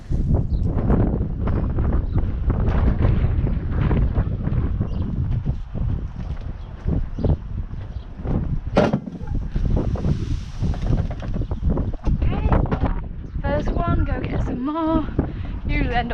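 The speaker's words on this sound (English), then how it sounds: "It's quite windy, so hopefully none of this blows away." Gusty wind outdoors at a horse stable, buffeting the microphone in a continuous, loud rumble, with a person talking intermittently over it.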